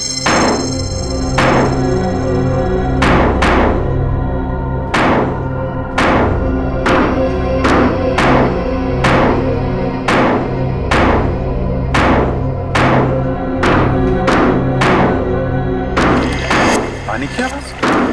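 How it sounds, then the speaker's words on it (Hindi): Heavy blows break into a concrete water tank in a TV crime drama, about fourteen loud, sharp impacts spaced every second or so over a steady tonal musical bed. "खोदो इस पानी की टांकी को,"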